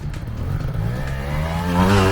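A 2021 TRRS RR 300 trial motorcycle engine revving up steadily and loudly, its pitch climbing toward the end of a short burst, with no talk.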